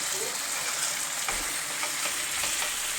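Fish fries in a pan, a dense, even hiss of spitting oil that holds steady for a few seconds, close up with no one speaking.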